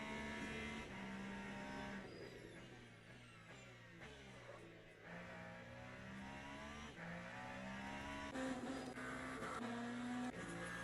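Hypercar racing engines in the sim racing game Le Mans Ultimate at Bahrain, several cars' rising and falling engine tones overlapping with steady revving and gear changes, loud and continuous with no talk.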